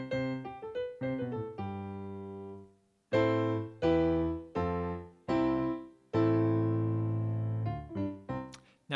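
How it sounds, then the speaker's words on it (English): The hymn "A Mighty Fortress Is Our God" on a keyboard instrument, quiet and close: chords and melody notes in a phrased sequence, several sustained chords decaying between phrases, with no talking. "Let's just think of "A Mighty Fortress Is Our God.""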